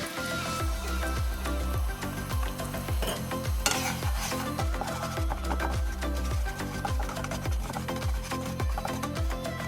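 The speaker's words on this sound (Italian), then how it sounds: "su un'altra padella bella calda mettiamoci il pangrattato e cerchiamo di farlo tostare mettendoci anche un filo d'olio" Breadcrumbs toasting with a drizzle of olive oil in a hot pan, a busy sizzle over regular rhythmic thumps and scrapes of stirring, close and steady throughout.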